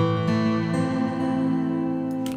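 Held synth tones run through a free delay plugin while its warp control is swept, giving a brief wobbling, bending sound over about two seconds, with no talking.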